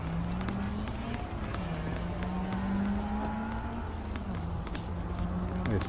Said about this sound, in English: There's the car right up the end.